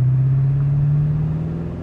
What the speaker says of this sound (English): The exhaust sounds real tough on it too.